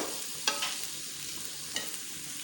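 Potatoes and onions tossed with spices in a pan, a soft continuous sizzle with two short scraping stirs, close and fairly quiet, with no voices.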